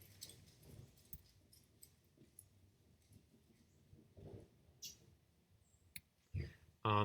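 Keyboard keys are pressed for a Command A shortcut, giving faint, scattered clicks with a few sharper, louder taps near the end over a quiet background.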